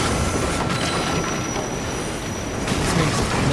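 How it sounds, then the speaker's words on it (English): Train in the Assassin's Creed Unity video game rushing past close by, a dense loud roar of wheels on track with a faint high squeal, sustained throughout. "Why would there be a train coming through here?"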